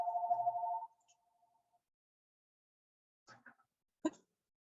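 A telephone rings in a quiet office, one loud steady electronic tone lasting under a second and then trailing off, followed by silence and a few faint handling sounds.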